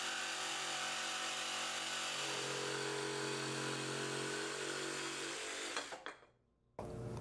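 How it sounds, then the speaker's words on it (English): A jigsaw cuts the curved ends of wooden picnic table pieces, a loud, steady, close buzzing that continues for several seconds, then winds down and stops abruptly. "then wound up cutting it with a jigsaw"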